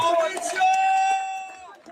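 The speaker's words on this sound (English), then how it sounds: "Let's have a round of applause for the fighters in Iran" A crowd at a rally cheering and whooping for Iran's fighters, a sustained yell and shouted cheer rising over babble, moderately distant, with no distinct clapping.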